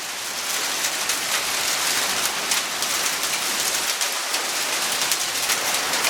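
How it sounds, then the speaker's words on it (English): Torrential rain mixed with hail in a Florida storm, pelting and bouncing off a car in a dense, loud, continuous hiss with scattered sharper impacts throughout, no voices. "it started raining torrentially and now we got hail. Actual hail."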